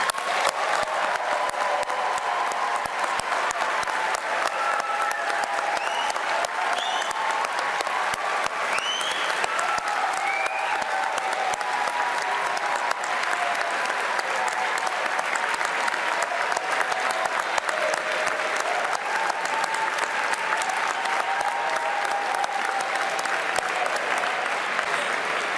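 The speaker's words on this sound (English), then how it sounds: "can we take the opportunity to give our new, wonderful graduates a huge round of applause?" A graduation ceremony crowd gives the new graduates a sustained round of applause, dense, steady clapping filling the hall throughout with no break and some faint crowd murmur.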